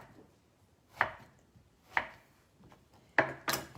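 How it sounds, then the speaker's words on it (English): A knife chops zucchini planks one at a time on a cutting board, giving three spaced, crisp thunks and then a quicker double cut, close by, over a quiet room with no voices. "Cut just 1 plank at a time into 4s."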